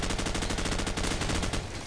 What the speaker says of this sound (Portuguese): Nossa, explodiram um rojão aqui.